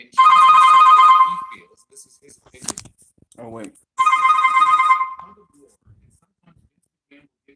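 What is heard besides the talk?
mobile phone ringing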